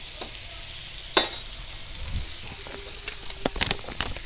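Spoon stirring coriander and turmeric powders into onion and tomato masala frying in a little oil for prawn roast, a soft steady sizzle with a few sharp scrapes and clinks, close and alone.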